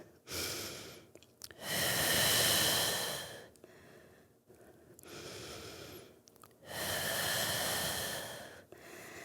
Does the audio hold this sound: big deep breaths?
yes